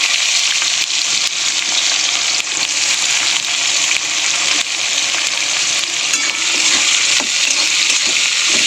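Chopped onion sizzles steadily in hot oil with whole garam masala, a loud, dense frying hiss running continuously with faint stirring scrapes throughout.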